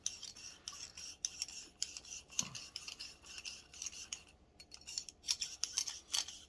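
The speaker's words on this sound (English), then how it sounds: "go in from the back and just give it a nice scrub" A bore brush scrubbing through the barrel of a Browning High Power Model 69C 9mm pistol, a quiet, steady run of soft rasping, brushy strokes in short repeated pulses, with no talking.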